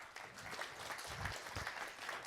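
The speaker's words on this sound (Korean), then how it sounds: "좀 큰 박수로 맞이해 주시기 바랍니다" Applause from an audience at a general meeting welcoming students onto the stage, a dense, steady wash of clapping from a crowd throughout.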